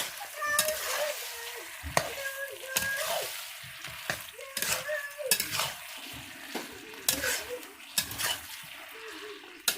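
Goat meat is stir-fried in a pan, with repeated scraping stirs of a utensil against the pan in a loose rhythm over a faint sizzle, heard close up and fairly quiet.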